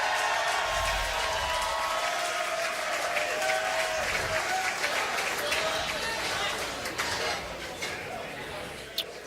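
A bowling arena crowd at the PBA Playoffs breaks into loud, sustained applause and cheering for bowler Kris Prather, the clapping fading gradually toward the end as an announcer's voice carries over it.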